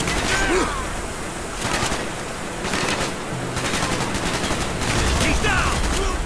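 Rapid automatic gunfire in Call of Duty: Black Ops, a Vietnam-era military shooter campaign: dense bursts of sprayed shots over continuous battle noise, with someone talking faintly in the mix.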